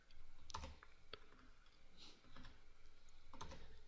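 Computer keyboard typing, faint and close, with scattered key clicks and a few sharper taps over a low room hum, no voices.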